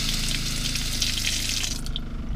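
Faucet at a van sink running with a water pump; a loud steady hiss of flowing water with a low pump hum underneath, close up, cutting off near the end with no talking.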